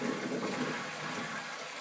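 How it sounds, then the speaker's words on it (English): Aquarium water from a 150 cichlid tank rushes steadily down a drain through an open drain valve, making a constant loud gushing wash with no pauses. "it'll all go down the drain when I flip the drain valve."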